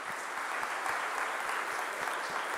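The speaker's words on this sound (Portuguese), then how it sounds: "Eu gostaria que a igreja aplaudisse esse meu povo todo." A church congregation at a Sunday celebration service applauds steadily, a dense, even wash of clapping with a few sharper nearby claps standing out, heard a little way off and without talk.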